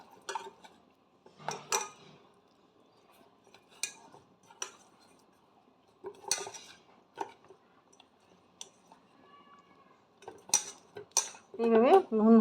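Large tilapia pieces being coated with salt and turmeric in a bowl, heard as sporadic clinks and knocks against the dish with soft handling noises in between and a louder clatter at the end.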